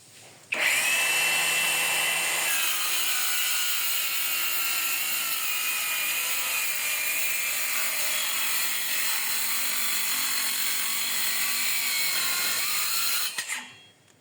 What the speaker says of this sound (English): Let's just try cutting the Meranti board, okay?